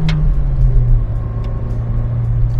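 A Honda Civic LX engine pulls hard without VTEC engaged, a loud, steady, low rumbling drone heard from inside the car with no voices.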